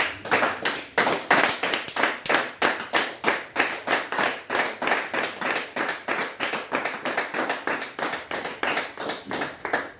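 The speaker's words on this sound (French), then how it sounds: "Acclamons encore pour le Seigneur Jésus-Christ." A French-speaking church congregation claps together in a steady, fast rhythm, loud and close, the sharp hand claps repeating evenly for the whole stretch without talk.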